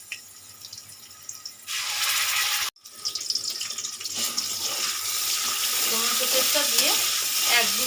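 Tomato paste stirred into a hilsa and eggplant curry in a pan over a medium gas flame, a steady loud sizzle and bubbling with spoon scrapes, broken by one brief cut before the frying noise resumes alone.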